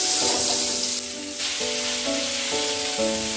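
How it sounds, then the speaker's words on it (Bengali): Cauliflower pieces fry with salt and turmeric in a pan, giving a loud, steady sizzle close up, with a brief dip midway and faint tonal hum in the background. "গ্যাসের ফ্লেমটা একটু বাড়িয়ে দিয়ে আমি ফুলকপিগুলোকে ভালো করে ভেজে নেব।"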